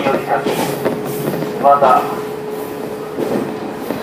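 A 115 series local train pulls into the terminus on the Joetsu Line, a steady low rolling rumble with a faint squeal near the middle, while a station announcement plays over it.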